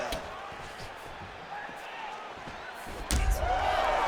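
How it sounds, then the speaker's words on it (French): A jab landing in the UFC 5 fighting video game: one sharp, solid smack near the end, over a steady bed of arena crowd noise with a commentator's voice. "Le jab."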